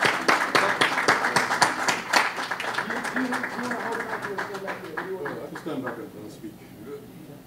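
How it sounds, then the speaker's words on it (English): An audience claps and applauds at an art reveal event, a dense burst of hand claps that starts loud and gradually thins and fades over several seconds. "Don't stop clapping until he gets up here."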